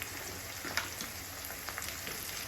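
Ingredients for poha fry in oil until crisp, a faint, even crackling sizzle with scattered small pops and light stirring, quiet and steady with no talking.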